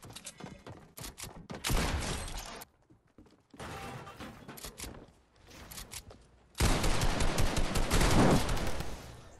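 Bursts of gunfire in the video game Fortnite come as several rapid volleys separated by short pauses, with the longest and loudest burst filling the final few seconds.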